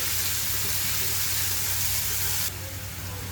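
Spring onion greens sizzle in a hot pan with garlic, a steady bright hiss that drops slightly in intensity near the end, loud and close with no talking over it.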